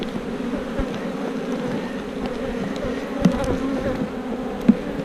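Honeybees buzz steadily around a homemade beehive, a dense close droning hum that swells briefly with a couple of louder passes near the end.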